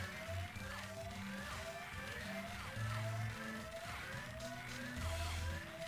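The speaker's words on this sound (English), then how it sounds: "The only reason that this siren is going off right now is to make us panic." Repeating rising-falling self-destruct siren aboard a ship in the Frogger video game, sweeping steadily in a regular cycle, loud and continuous with low game rumble and music underneath, no voices.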